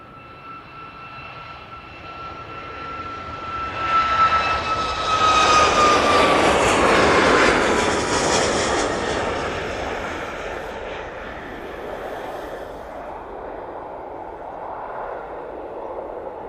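TUI Boeing 737 MAX 8 airliner taking off from Manchester Airport, its jet roar swelling loudly as it passes close, peaking mid-way and then fading slowly into the distance, with a thin whine over the top and no one speaking.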